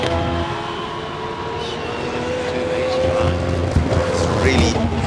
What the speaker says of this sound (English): So the R34 Skyline, look at Martin van Zimmeren going.